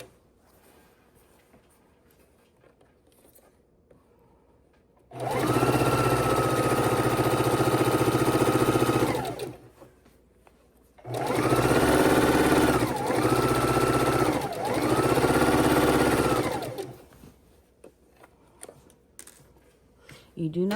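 A sewing machine stitches rows of a layered cake and jelly roll quilt in two steady runs of motor whir, the second longer with brief dips. A quiet pause separates them, and the room is otherwise hushed.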